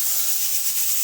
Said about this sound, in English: This one over here is leaking steam too